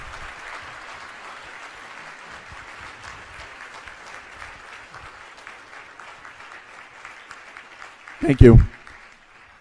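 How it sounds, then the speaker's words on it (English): Faint, continuous audience applause at a university symposium lunch keynote, with a brief spoken thank-you louder near the end as the clapping fades. "spontaneous applause?"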